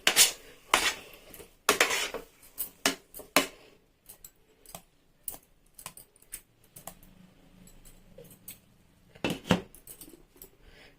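A spoon stirring pineapple kesari in a pan clatters and scrapes against the metal, an irregular series of close, crisp knocks and clinks with quieter scraping in between.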